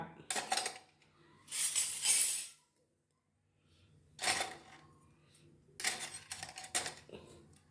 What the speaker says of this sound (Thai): นี่ครับก็สามารถเอามาเก็บช้อนนะครับ